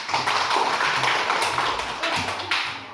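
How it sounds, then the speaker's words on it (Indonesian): Students in a classroom applaud together, a busy wash of overlapping hand claps that stays steady and fairly close for a few seconds. "Ya, tepuk tangan."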